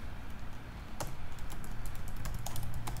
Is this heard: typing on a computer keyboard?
yes